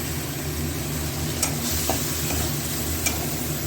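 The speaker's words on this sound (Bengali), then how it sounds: "এবার একটু জল দিয়ে সব মশলাগুলোকে ভালো করে ভেজে নেব" Spices sizzle in a pan with a splash of water for a Bengali pabda fish curry with bori and potato, a soft steady frying hiss broken by a few light scrapes and taps of stirring.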